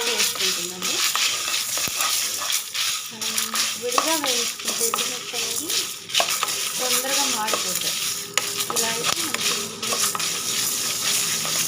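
Green chillies fry in a pan, a continuous hissing sizzle with light stirring clinks close by; faint indistinct voices or background sounds drift underneath.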